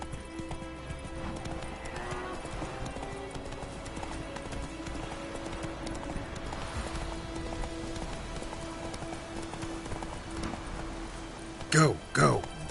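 Roach, a horse in The Witcher 3, gallops with a steady clip-clop of hooves over a faint rain-like hiss, ending in a couple of louder bursts near the close.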